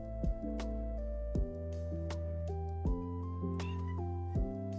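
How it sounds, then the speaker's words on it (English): A pet cat indoors meowing several times at irregular intervals, quiet and close, over a steady tonal background sound. "My cat's talking to me."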